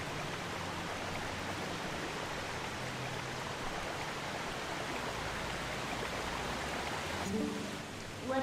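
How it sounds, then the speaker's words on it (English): Rain, waterfalls and river water in Zelda: Twilight Princess form a steady, dense wash of rushing water that holds evenly throughout, with a brief brighter splash near the end. "It's raining, there are waterfalls, it's a lake, it's a river, it's everything."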